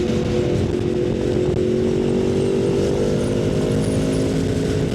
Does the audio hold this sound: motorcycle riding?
yes